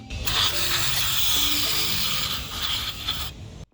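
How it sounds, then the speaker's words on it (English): A steady spray of aerosol throttle body cleaner onto a cloth hisses for about three seconds, close and fairly loud, then cuts off abruptly. "Spray the throttle body cleaner directly onto a cloth."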